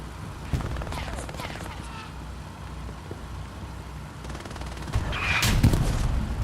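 Gunfire from the World War II shooter Hell Let Loose around a trench on the Carentan map, scattered shots with heavier bursts near the end, under a steady battlefield rumble and commentary.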